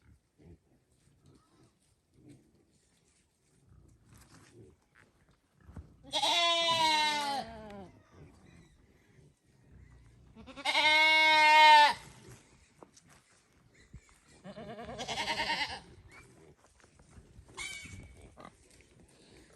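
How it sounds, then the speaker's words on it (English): Farm animals on a property with Red Wattle and Tamworth-Mangalitsa cross pigs, where goats roam, give three loud drawn-out bleating calls spaced a few seconds apart, then a short fainter one, with quiet rustling between. "So the goat's been jumping my fence, and so I just let them."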